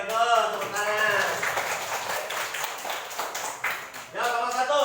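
A classroom of pupils claps hands together in a burst of dense, fairly loud applause lasting a few seconds, with a teacher talking just before and after.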